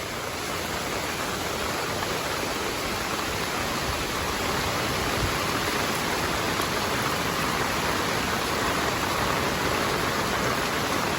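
Heavy monsoon rain pours without a break, a loud, dense, steady hiss that fills the whole scene with no voices.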